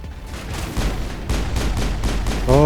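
Sniper gunfire in Mass Effect, several sharp shots in a steady irregular rhythm over a low rumbling game background, ending with a rising electronic tone.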